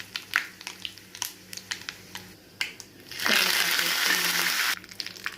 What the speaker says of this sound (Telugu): కరివేపాకు వేస్తున్నా. పోపు మిరపకాయ వేస్తున్నా.